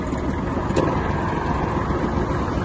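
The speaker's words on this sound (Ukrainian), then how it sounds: "знімаємо трактор з тормозу та рухаємося" Kubota GL21 Japanese mini tractor engine running as the tractor moves off, a steady low rumbling drone held at even loudness for the whole stretch, close by with no speech.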